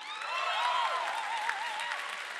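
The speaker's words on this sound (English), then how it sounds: "We just wanted you to clap for us again." Audience applause at a film festival gala after a short film screening: steady, dense clapping from a large crowd filling the room, with a few whistle-like tones riding over it throughout.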